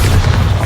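A Bombarda blasting spell goes off in Hogwarts Legacy, a short, loud, deep boom with a heavy low rumble and no speech over it.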